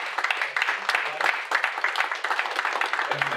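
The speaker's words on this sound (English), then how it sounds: "let's keep applause going for Jeremy" Audience applause at a Brisbane book launch for a business legal lifecycle title, a steady patter of many hands clapping at moderate distance, with faint voices murmuring underneath.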